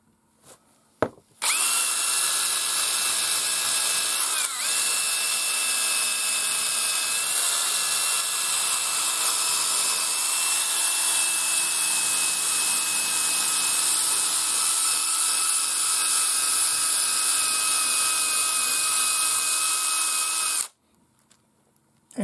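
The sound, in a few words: polishing wheel on power tool restoring Nylon 66 rifle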